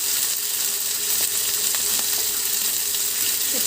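Sliced beef steak sears in a hot pan with a steady, fairly quiet hiss and a few faint crackles, and no voices are heard.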